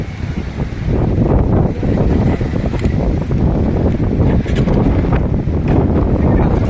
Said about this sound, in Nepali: यहाँ चाहिँ गाह्रो छ, पुरै हावा चलिरहेछ